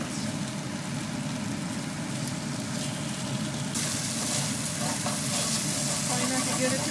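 Spare ribs for a curry sizzle steadily in a pan, a continuous dense frying hiss that grows slightly louder and brighter partway through.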